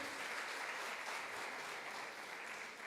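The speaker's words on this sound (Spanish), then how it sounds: "Se pueden dar un aplauso" Applause from a church congregation, steady and sustained clapping for a few seconds, somewhat distant and soft.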